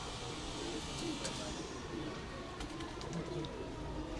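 Jaunsre pigeons on a Rawalpindi rooftop cooing softly amid steady outdoor background noise, with faint voices and a few short sharp sounds in the mix.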